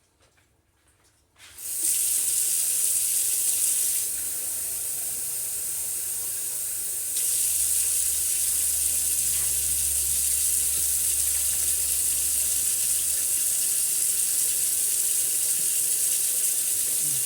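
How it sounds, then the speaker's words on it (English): Water runs from a tap or is poured into a pot of beef broth for caldo de res at a backyard BBQ pit, a steady close hissing rush that starts abruptly and continues unbroken, with no talking. "And then I'm going to go ahead and put some water."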